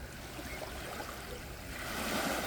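Gentle sea waves wash in a continuous soft hiss and rumble that swells slightly louder toward the end, with no voices.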